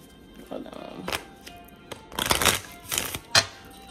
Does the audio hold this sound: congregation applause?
no